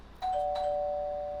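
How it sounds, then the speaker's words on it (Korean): A doorbell rings once with a clean two-tone ding-dong, the second chime lower, its ringing tone sustaining and slowly fading, heard clearly and alone as an audiobook sound effect. "곧이어 초인종이 다시 울렸다"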